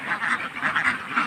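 Ducks kept as pets quack repeatedly in a quick, nasal series, several calls overlapping at moderate distance with no voices over them.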